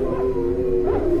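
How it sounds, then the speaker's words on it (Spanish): Dogs howl in long, wavering, mournful tones on a dark windy night in a village, loud and close, the howls overlapping and rising again near the end. "Los perros aullaban, como anunciando un mal presagio."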